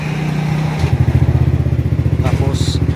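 A Yamaha NMAX 155 scooter engine catches and settles into a steady, rapid idle, its close, loud pulsing chug following a brief starter whir, with talk alongside.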